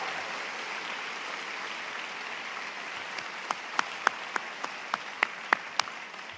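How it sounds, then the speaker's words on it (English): Applause rolls through a high school graduation crowd, a soft distant wash of clapping with several sharper, closer claps standing out toward the end. "Please join me in giving them a nice round of applause"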